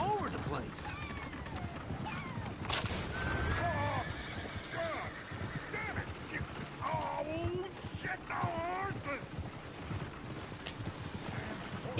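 Horses in the Red Dead Redemption 2 video game whinny and neigh repeatedly over a busy scene of hooves clopping and people talking, with the calls rising out of a dense, steady background.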